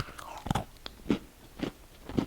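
Four sharp, crisp bites into a crunchy whole-wheat chocolate chip cookie, spaced about half a second apart, each with a brief crackling crunch, heard up close.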